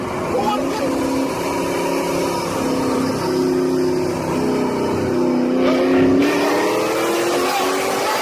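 Nissan GTR drift car engine revving at a drift event, a throaty rising and falling engine tone underneath loud, excited crowd voices shouting throughout.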